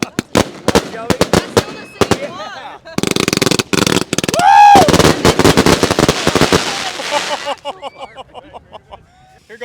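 New Year's Eve consumer firework show with cakes of crackling aerial shots, rapid loud bursts and bangs in dense volleys, a whistling rise in the middle, with people talking and cheering throughout.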